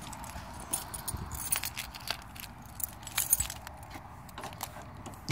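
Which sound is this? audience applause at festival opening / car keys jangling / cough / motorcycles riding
car keys jangling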